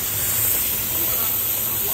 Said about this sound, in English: It's sort of getting a very loud sound, which means that the steam is not shooting to the bottom of the milk.